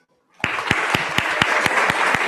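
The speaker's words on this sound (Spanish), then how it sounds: "a quien recibimos con un fuerte aplauso" An audience at a keynote lecture breaks into applause to welcome the speaker, with steady rhythmic clapping that starts abruptly after silence and carries on evenly, fairly close and loud.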